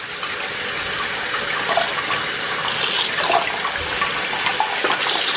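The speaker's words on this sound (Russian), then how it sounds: "хорошенечко промываю все под проточной водой" Cabbage leaves for Korean-style kimchi are rinsed under a running kitchen tap, a steady loud gush of water close by with splashes and shifts as the leaves move beneath the stream, and no speech.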